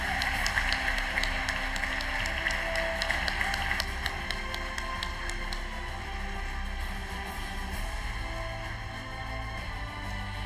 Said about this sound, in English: Let's give Chairman Lee another round of applause